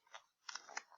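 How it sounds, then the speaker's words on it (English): Scissors slice through a thick stack of about five layered sheets of paper, giving a few short, close crunching snips in quick succession. "And these scissors are taking a while because I made it really thick."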